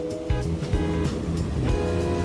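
Strong waves wash over and drain off rocks along the shore at Luna, La Union, a loud continuous rush with repeated surges and rumbling low churn close by.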